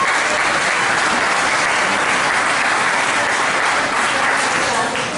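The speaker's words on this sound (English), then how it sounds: "let's give them a round of applause" Sustained, loud applause from an audience at the Vetstock 2016 veterans' event, a dense wash of clapping for the volunteers that holds steady throughout without pause.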